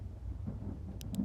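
A low thunderstorm rumble with rain rolls on steadily in a nun-themed horror video game, faint and distant, with a couple of brief higher flickers near the end.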